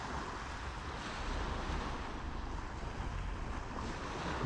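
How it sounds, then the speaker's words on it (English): Surf washing in at Cozy Beach in Pattaya, a steady broadband wash of waves with some wind buffeting the microphone, continuous and fairly loud with no voices. "That is Cozy Beach."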